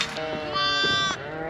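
Ewes bleat close by in a couple of drawn-out, wavering calls as they are moved in the dark.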